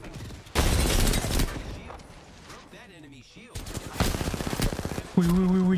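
Rapid bursts of automatic gunfire rattle in Apex Legends, loud fusillades in two stretches separated by a brief lull, with a voice talking over the action.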